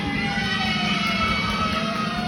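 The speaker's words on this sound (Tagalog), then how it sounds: "Sumigaw naman para sa blue team!" A crowd of children at a school foundation day event shouts and cheers for the blue team in a team game, a continuous loud, dense roar of voices throughout.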